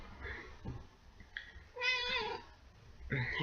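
A house cat meows for attention: a few soft, close mews, then one longer, clearer meow midway and another toward the end, over quiet indoor background with no words spoken.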